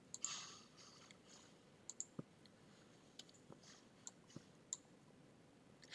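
Computer mouse clicks while uploading files, a series of faint, sharp single clicks spaced irregularly over a quiet room background.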